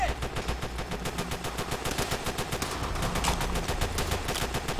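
Rapid, continuous automatic Thompson submachine gun fire in Call of Duty: World at War rattles in a fast steady burst lasting several seconds, loud and close.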